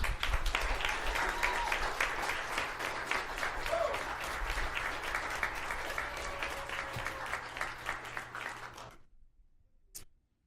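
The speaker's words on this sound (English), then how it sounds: "Let's give them a round of applause." Attendees at a school district board meeting give a round of applause, a steady wash of clapping lasting about nine seconds that fades out, followed by near silence with a faint click.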